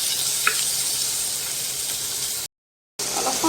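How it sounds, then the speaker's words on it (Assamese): Tomatoes stirred in a hot pan with ginger-garlic paste and green chilli, giving a continuous close sizzle with light stirring noises, then a brief gap of silence before the frying resumes. "এতিয়া অলপ সময় পিছত মই ইয়াতে দি দিছোঁ বিলাহীখিনি, দি পেলাই লৰাই দিছোঁ"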